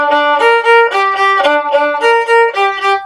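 A solo violin plays a quick run of sixteenth notes from the build-up of a piece, bowed clearly and close, with pitches repeating in short rhythmic groups.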